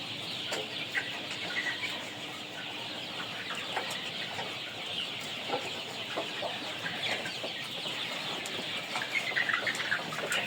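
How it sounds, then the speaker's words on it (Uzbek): A crowd of young chickens in a poultry shed cheeps and clucks continuously nearby, many overlapping peeps and chirps with occasional wing flutters and no talk. "Mana jo'jalar."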